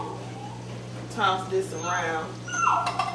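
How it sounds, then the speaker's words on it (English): A puppy yips and whimpers in short, high bursts from nearby while a person talks over it. "please excuse my puppy barking in the background."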